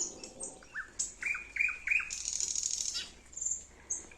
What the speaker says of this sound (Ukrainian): в кожного солов'я своя пісня